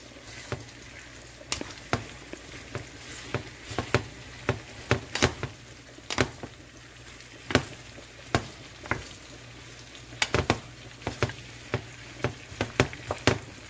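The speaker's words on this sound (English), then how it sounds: "So I need to fry it till it's kind of, the onion become tender." Onions sizzle steadily in a pan for a Palestinian mushroom musakhan, with salt added to speed the cooking, the soft frying hiss punctuated by frequent sharp clicks and pops, close and fairly quiet with no talking.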